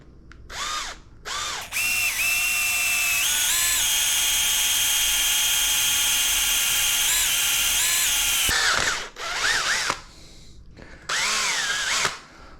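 A power drill with a 4 mm bit bores a drainage hole in a bicycle frame, a steady high whine held for several seconds, preceded and followed by short revving bursts, loud and close.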